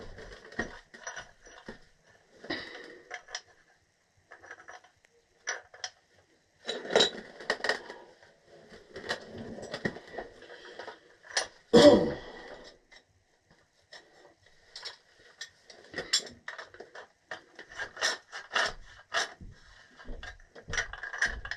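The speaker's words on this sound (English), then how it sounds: "we're gonna tighten both ends together, so it's all tightened up at the same time" A close nipple pipe fitting is tightened onto an old gas valve, with both ends turned together. Irregular clusters of sharp metallic ratcheting clicks and scrapes come in short bursts with quiet gaps, close and fairly soft, with no talking.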